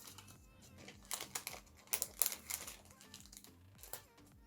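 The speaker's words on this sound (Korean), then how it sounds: "안에 키트의 포장지를 열어서" Packaging for a dancheong ceiling panel kit crinkles and rustles as it is opened, with irregular crisp plastic crackles and a few sharper tearing bursts close by, no talking.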